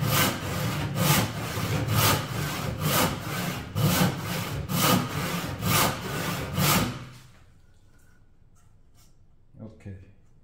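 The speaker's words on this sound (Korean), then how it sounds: "지금 이 상태에서는 반듯하게 다시 톱질을 정상적으로 해줘야 됩니다" A Japanese-style hand saw cuts a squared timber with about a dozen rhythmic, close push-pull rasping strokes, then stops, leaving quiet room sound with a faint knock.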